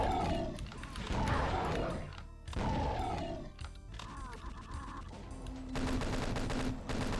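Chaingunner fire in Doom 2 mixed with other combat noise, repeated bursts of crunchy rapid shots and impacts, fairly faint overall, in several clustered waves with short pauses between them.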